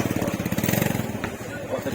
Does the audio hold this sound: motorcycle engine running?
yes